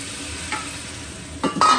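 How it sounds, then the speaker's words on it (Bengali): Spice masala for khichuri sizzles softly in a pan after a little water is added, a faint steady hiss with a couple of stirring scrapes and a louder burst at the end, no voices. "এই যে অল্প করে একটু পানি দিয়ে দিতেছি"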